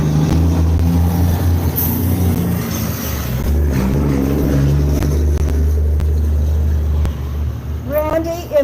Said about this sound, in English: And I'm going to wait for this truck to pass.